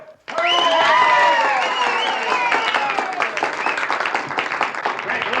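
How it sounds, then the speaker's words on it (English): Audience applause breaks out at a talent contest, a loud burst of clapping and cheering from a crowd that swells quickly, then settles into steady, slightly thinning clapping. "judging from your applause, the winner is Pat Whipple."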